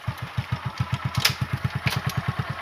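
A motorcycle engine idles on a muddy village road, its exhaust thumping in a steady, even pulse up close with no voices.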